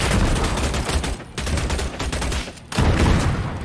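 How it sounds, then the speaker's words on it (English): Sustained gunfire in the vampire battle-royale game Vampire: the Masquerade Bloodhunt, a dense, loud crackle of rapid shots that briefly drops out twice before resuming at full strength. "And somebody's already shooting at me."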